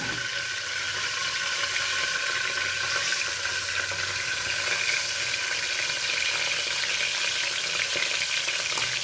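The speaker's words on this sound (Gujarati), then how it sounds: "લસણથી આપણે વઘાર કરશું।" Garlic tempering with asafoetida crackles in hot oil inside a pressure cooker, giving a continuous, close, fairly even sizzle with no voices.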